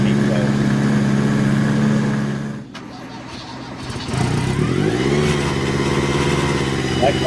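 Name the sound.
turbocharged and supercharged car engine revving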